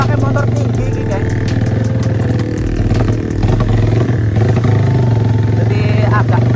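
A tall Honda CB motorcycle rides a rough, unpaved road near Baturaden, its engine chugging loudly with rattles and clatter from the bumps. A voice talks over the engine.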